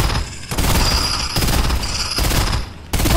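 Video game gunfire aimed at shooting down a bouncer, with rapid sustained automatic bursts broken by brief gaps, loud and close with no talking over it.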